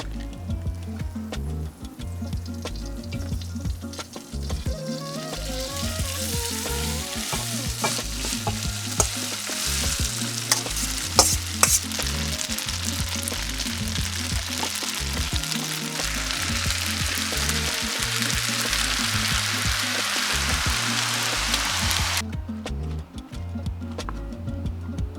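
Noodles fry in a hot pan with a loud, steady sizzle and crackle, while a spatula stirs and scrapes in repeated rhythmic strokes, close up and continuous, with no voices, before the sound cuts off near the end.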